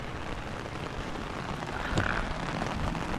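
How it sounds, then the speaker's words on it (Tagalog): Heavy rain pours steadily while someone walks outdoors through it, a dense continuous hiss with no talk, slightly building toward the end. "Ang lakas! Lakas ng ulan!"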